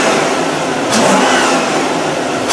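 A Toyota car engine under an oil pressure test revs up, its mid-pitched roar climbing as RPMs rise, loud and close, and it holds high without any talk.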